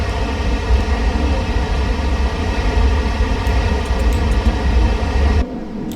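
A South Western Railway train in Train Simulator 2017 rumbles loudly and steadily with dense low engine and wheel noise, holding constant for several seconds before cutting abruptly to a quieter hum; no talking.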